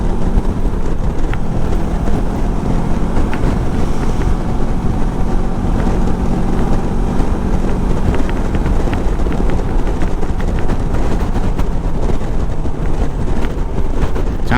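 A Kawasaki Versys 650 motorcycle cruising at 125-130 km/h, its engine hum buried in a steady, loud rush of wind buffeting the rider's microphone throughout.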